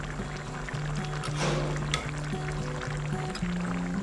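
Chicken meat simmering and frying in a pot with its lid lifted, a steady close bubbling sizzle with soft popping, tonal hum underneath, no talk.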